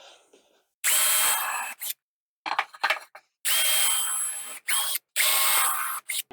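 Power drill driving a 2.5 cm screw into a wooden jig, heard as three loud, near whirring bursts with short gaps and a rattling handling noise between them, no voices.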